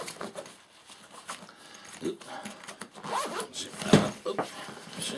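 A zipper on a 5.11 Tactical Responder BLS 2000 medical bag is pulled open in several short rasping strokes, close and crisp, with a person talking over it.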